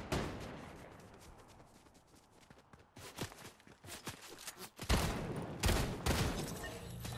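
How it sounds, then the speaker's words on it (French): Gunfire in the video game Fortnite: a scattered fusillade of sharp shots crackling at varied distances, growing louder and denser toward the end, with hurried footstep-like thuds between bursts. "On m'a tiré dessus, mais j'ai pas vu l'autre."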